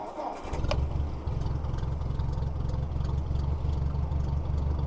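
An antique Ford tractor engine cranks and catches within a second, then settles into a loud, steady, chugging idle nearby with a few faint clicks.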